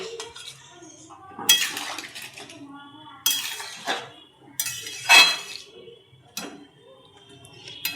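A lid goes onto a pot of curry with winter vegetables (flat beans, eggplant, radish) and dried fish, giving several separate close metallic clanks and clatters spread over the stretch, with quiet moments between them.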